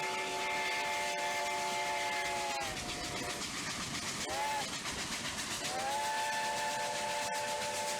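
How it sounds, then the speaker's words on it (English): Steam locomotive 2102 sounding its whistle, loud sustained chime blasts broken by a short pause then a dip and return, over steady hissing steam and train rumble outdoors. "listen to that whistle"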